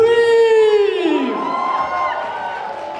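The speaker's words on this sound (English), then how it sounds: "Everybody, please, a warm round of applause for Madam Shafida Karim." An audience at a Bangladeshi community gala night in Montreal cheers for a singer, with a loud rising-then-falling whoop up front and a fainter crowd roar trailing behind.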